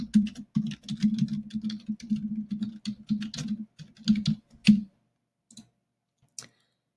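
Rapid clicking keystrokes on a computer keyboard, typing in quick close bursts with short pauses, then a few isolated taps as it trails off.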